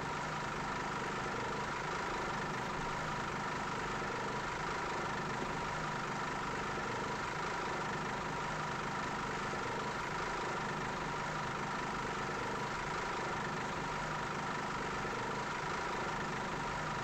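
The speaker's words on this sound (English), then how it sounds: "And in true Scania fashion, the engine sounds rough as some old boot." Scania Touring coach engine idling in the Fernbus Coach Simulator game, a steady rough low diesel rumble with an even, unchanging drone throughout and no talk.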